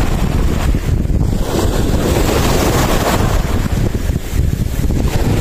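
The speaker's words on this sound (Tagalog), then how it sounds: "Kahit medyo may hangin." Strong wind at sea during a fishing trip on a small boat, roaring across the microphone with a constant rushing wash of waves and water, loud and unbroken with no talk.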